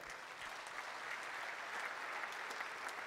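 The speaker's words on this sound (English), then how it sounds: "So let's give God a clap offering" A church congregation claps steadily in sustained applause during a Sunday service, sounding somewhat distant and even, with no voices.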